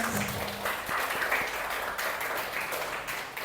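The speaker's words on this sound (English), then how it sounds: "give them another round of applause for all their accomplishments" Applause from a lecture audience after class presentations in a construction design course, a modest, steady patter of clapping lasting several seconds at moderate distance, with a few brief voice traces early on.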